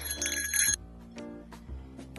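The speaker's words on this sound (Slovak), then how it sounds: "A dnes sme si so Samkom zobrali takýto zvonček proti medveďom." A small handheld bell carried against bears rings with bright metallic jingling near the microphone during a mushroom-picking walk in the Slovak woods, a dense burst followed by softer intermittent tinkles.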